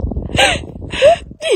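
A crow caws three times at close range, each call a harsh, bending squawk spaced about half a second apart over a low background rumble.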